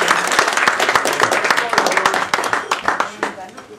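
Audience applauding a speaker at a labor history talk, with loud, close, dense clapping that holds steady and thins slightly toward the end, with voices mixed in.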